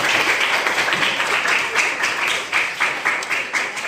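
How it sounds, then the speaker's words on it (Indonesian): A school class in a science lesson applauds together, a dense, continuous burst of clapping that fills the room from start to finish, loud and close, with some faint voices mixed in. "Tepuk tangan untuk kita semua."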